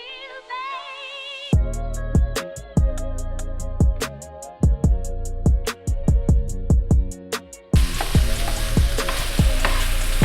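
Crab meat being broken up and tossed into a hot pasta pan for seafood pasta, giving a steady close sizzle with repeated sharp clacks of a utensil against the pan and the frying growing louder near the end.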